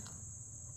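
A large grasshopper in flight gives a soft, steady wing buzz with a low fluttering hum, faint and continuous for under a second.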